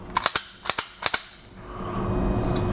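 Sharp metallic clacks of a chrome-plated Sig Sauer P229 pistol being function-checked after repair, three quick paired snaps of slide and trigger close by, followed by a low rumbling handling noise.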